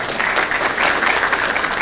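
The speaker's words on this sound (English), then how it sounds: "Can we have a round of applause for that?" Sustained applause from a crowd at a mosque fundraising event, steady dense clapping filling the room at close range with no voices over it.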